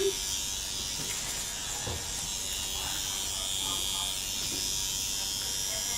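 Permanent makeup handpiece needle buzzing steadily while drawing feathered brow hair strokes, a close, continuous high-pitched whine that holds level throughout.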